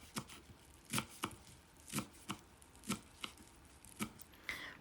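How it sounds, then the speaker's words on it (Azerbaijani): Parsley and mint are chopped finely with a knife, a steady series of crisp, evenly spaced thuds on a cutting board, close and moderately quiet. "Bir dəstə cəfəri, bir dəstə nanəni də xırda-xırda doğrayıram."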